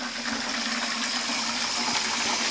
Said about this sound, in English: when you put the water in, make sure it doesn't go straight into the wort, otherwise it'll froth up heaps